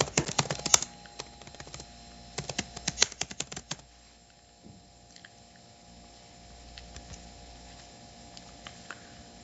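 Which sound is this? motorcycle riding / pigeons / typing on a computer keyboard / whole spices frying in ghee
typing on a computer keyboard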